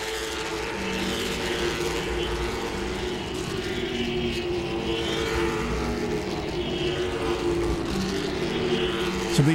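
Late model stock cars race around the Langley Speedway oval, a continuous loud roar of engines droning at steady volume throughout with no voices.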